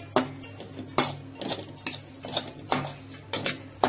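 A spoon stirs coarsely ground peanuts in a pan, making a string of close, irregular metallic scrapes and clinks about every half second, with no speech over them.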